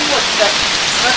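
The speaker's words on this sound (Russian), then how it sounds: "Дождик, правда." Steady hiss of rain falling in a forest near a cave, continuous and close, with a faint voice briefly underneath.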